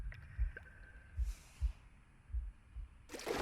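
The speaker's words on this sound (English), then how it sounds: "a deafening heartbeat" Deep, booming heartbeat in the video game The Last Campfire, thumping in slow double pulses at close range under a faint ambient hum, with a burst of rushing noise at the end.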